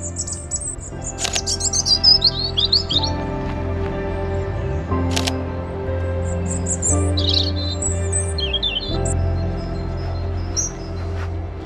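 A European robin sings in short, high, twittering phrases close by, outdoors near home, over a steady low mechanical hum with a few sharp camera shutter clicks.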